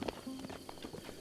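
Horse hooves clip-clop in Zelda: Breath of the Wild, a quick run of soft, irregular thuds at moderate level with a brief tonal sound partway through.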